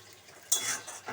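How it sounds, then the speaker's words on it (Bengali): Spoon stirring boiled potatoes with tender banana stem and fresh grated coconut in a pan, a brief scraping burst after a quiet start, close and moderate, with no voices. "একটু নেড়ে দিন অল্প করে"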